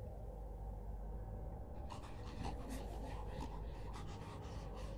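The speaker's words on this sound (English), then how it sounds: "I hear creepy breathing behind me." Faint, creepy breathing sounds just behind the player in the horror game Spirit Hunter: Death Mark, as quick raspy pants repeated in an uneven rhythm over a low, steady ambient hum.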